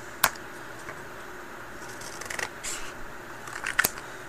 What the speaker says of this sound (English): So go ahead, get your scissors out